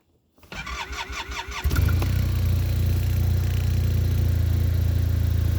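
An Arctic Cat Norseman 3000 engine cranks with a rapid starter whir for about a second, then catches and settles into a loud, steady, close idle rumble with no talk.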